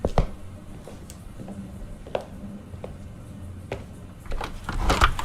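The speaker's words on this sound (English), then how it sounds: "Doors opening." Doors open in the point-and-click horror game The Last Door, a run of soft creaks and knocks coming every second or so, quiet and sparse, ending in a louder rattling burst.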